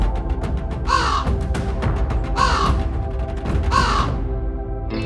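A black crow caws loudly in three harsh, evenly spaced calls over a constant noisy background.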